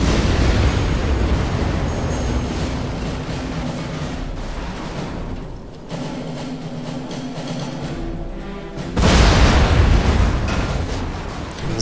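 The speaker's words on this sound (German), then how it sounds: "hätte ich da nur eine Granate in die Ofen." Loud, rumbling blast from a grenade in the game The Saboteur, a sustained broadband roar that dips midway and then surges into a second heavy burst near the end.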